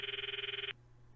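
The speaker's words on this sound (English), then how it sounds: "I stop the video and call Mayuri's phone from my address book." A phone rings out after a call is placed in the visual novel game Steins;Gate, giving a single electronic trilling burst that pulses rapidly for under a second before cutting off into quiet background hum.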